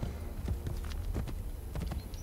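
Horse hooves clip-clop in Assassin's Creed Brotherhood, a quick, steady run of hoofbeats on a hard surface over a soft background ambience.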